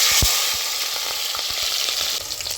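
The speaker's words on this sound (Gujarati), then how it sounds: "તેલ આપણું ગરમ થઈ ગયું છે તો ટમેટા ડુંગળી ને ઢિલા મરચા એ આપણે નાખી દે" Tomatoes, onions and green chillies dropped into hot oil for a pomfret fish recipe, a loud close frying hiss with a few clattering stirs and taps of a spoon.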